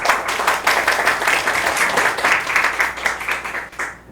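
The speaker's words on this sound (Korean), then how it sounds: "박수로 소개 듣겠습니다" An audience at a book forum author talk in Daejeon breaks into sustained applause, a dense even clatter of many hands close by that fades out at the very end.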